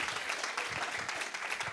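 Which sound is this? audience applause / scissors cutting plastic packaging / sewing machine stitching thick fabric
audience applause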